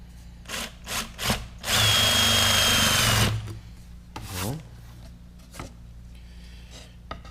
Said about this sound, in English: countersink for these little flathead wood screws I'm using there.